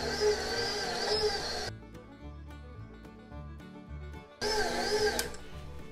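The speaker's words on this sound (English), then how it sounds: "Got the dough hook in there, and I'm just gonna put it on real low and slow and let it start to incorporate." Stand mixer with a dough hook slowly working sausage ball dough, a steady motor whir close by that drops to a quieter hum midway and then returns louder.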